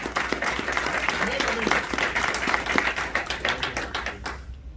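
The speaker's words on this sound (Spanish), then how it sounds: "Denle un aplauso al Señor si usted puede." A church congregation applauding during a sermon, dense steady clapping that builds and then fades out, with a voice speaking over it.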